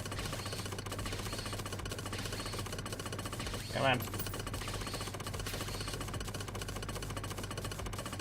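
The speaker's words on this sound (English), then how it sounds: "The sound of me drilling through this stuff is rather hilarious." Block-drilling in the video game Terraria makes a steady, harsh mechanical buzz that runs unbroken through the whole stretch, with a short spoken remark briefly over it midway.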